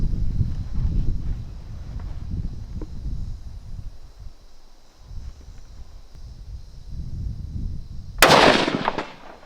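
One sharp, loud rifle shot from a Steyr AUG firing 5.56 rounds at a 200-yard target outdoors. The blast comes near the end after several seconds of low wind rumble.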